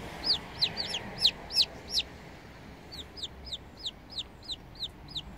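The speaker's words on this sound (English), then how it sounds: "You're calling to the chicks, weren't you?" An Araucana hen calls to newly hatched chicks with a steady run of short, clucking notes at an even rhythm, close and clear over a quiet background.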